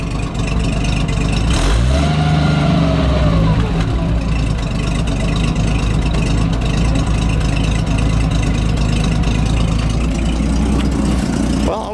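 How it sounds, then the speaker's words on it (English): A 1953 Chevrolet Bel Air engine idles with a steady low rumble, loud and close, with a brief rise in revs early on before settling back. "Let me listen to that idle."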